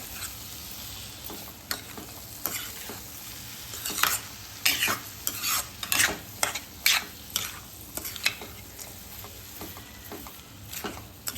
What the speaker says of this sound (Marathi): गूळ आणि मावा व्यवस्थित मिक्स झाला पाहिजे छान परतून घ्यायचं